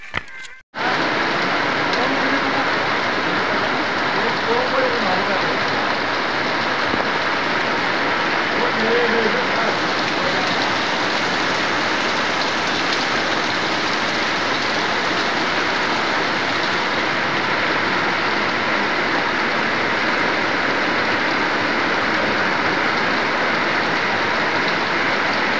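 Heavy rain pours down steadily on a cold hillside road, a dense, loud, unbroken hiss that begins abruptly after a brief moment and holds for the whole stretch. Faint voices murmur beneath it.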